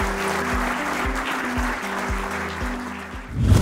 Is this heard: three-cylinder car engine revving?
no